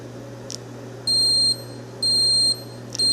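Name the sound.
brewing controller beep signalling to add the malt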